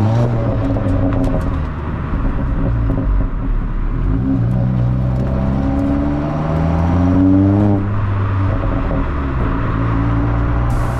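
2022 Honda Civic Si with a manual gearbox accelerating hard, its engine note rising steadily through the revs, dropping at a gear change, then climbing again, loud and close from inside the car.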